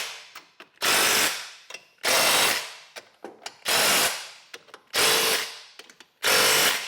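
A ratchet snugs the bolts along a TracK-it track in five short, loud, whirring bursts, each about half a second long. Quiet clicks and taps fall in the pauses between them.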